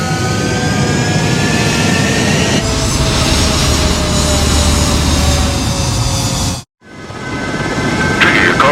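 Jet aircraft taking off in Ace Combat 7, a loud roaring engine with high whining tones building steadily, cutting out abruptly for a moment before the jet roar returns.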